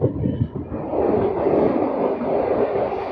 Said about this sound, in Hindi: ये जा रही है भाई बिहार संपर्क क्रांति टूंडला जंक्शन पर बिना रुके